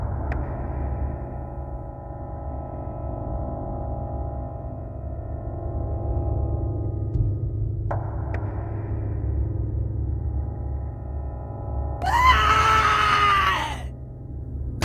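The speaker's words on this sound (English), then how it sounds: "When I heard his scream" A high, wavering scream cries out near the end of a graveyard horror story, rising sharply after a long stretch of low, quiet ambient rumble.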